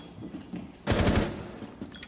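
Gunfire in Rainbow Six Siege: one short, loud burst of rapid automatic shots fired close by, surrounded by quiet game ambience.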